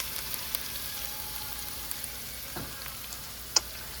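Garlic, chillies, bay leaf and curry leaves sizzle in hot oil with a steady, even crackling hiss, close and soft, broken by a couple of small spoon taps and one brighter pop near the end, no voices.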